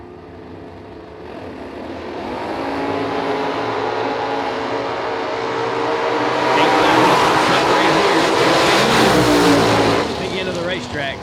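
Drag racing cars, including a Chevy Nova, launching and roaring down the strip, engines building to a loud sustained howl that peaks and then fades, with an announcer talking over the noise.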